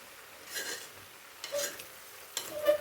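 Red gram and raw banana stir fry being stirred in a pan, giving a few soft scraping sweeps with faint sizzling, quiet and close with no talking.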